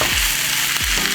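Mushrooms with pepper and Italian seasoning sizzle steadily in a hot pan, with a couple of short scraping stirs cutting through the constant frying hiss.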